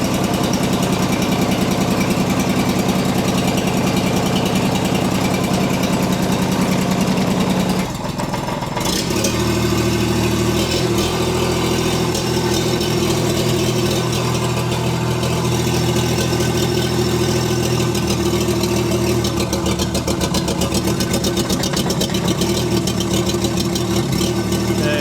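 STL1000 engine idling warm at about 1500 RPM with a misfire, a steady close-up mechanical drone with a dip and change in tone partway through, no talking.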